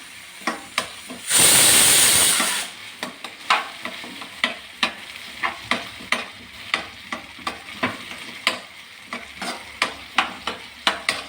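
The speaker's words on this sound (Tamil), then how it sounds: "தக்காளி பச்சை மிளகு அது நமக்கு நல்லா வழட்டி எடுக்கலாம்" Tomato and green chili being sautéed in a pan, with a burst of loud steamy hiss early on, then a steady run of sharp, evenly spaced stirring taps and scrapes over a faint sizzle.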